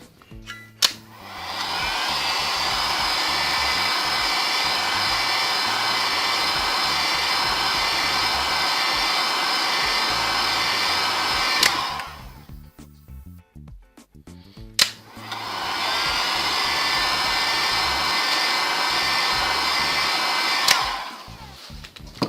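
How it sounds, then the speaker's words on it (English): A heat gun warms UV glue on a Galaxy S3 Mini phone screen, blowing with a steady, loud whirring hiss for about ten seconds, cutting off, then starting again for a second long run. "If it gets cold, just warm it up again with the heat gun"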